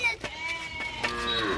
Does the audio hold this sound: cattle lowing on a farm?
yes